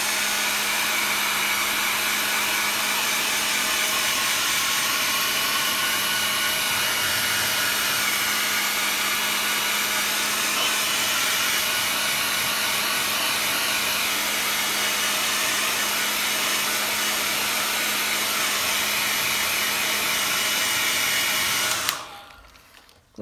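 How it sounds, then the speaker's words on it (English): A hair dryer blows steadily on a watercolour painting of mist, a loud, even whir held for about twenty seconds before it abruptly cuts off. "I'm just going to dry this off quickly."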